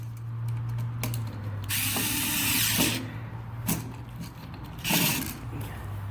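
A Craftsman 4V cordless screwdriver whirs in short bursts while snugging down a terminal screw on an electrical connection, three close, fairly quiet runs of a second or so each, separated by clicks and handling taps over a low hum.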